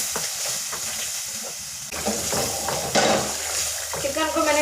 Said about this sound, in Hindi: मैं चिकन को दही डाल के अच्छी तरह भून लूँगी